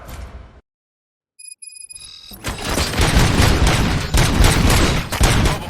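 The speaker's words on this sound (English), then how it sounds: "Gunshots? What's going on?" Gunfire in the Robocop Rogue City video game: after a brief silence and a ringing tone, a dense, loud barrage of shots and booms erupts and continues steadily to the end.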